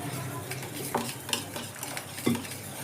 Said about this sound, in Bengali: এবার আমি এর মধ্যে অল্প করে জল মেশাবো যতটুকু আমার দরকার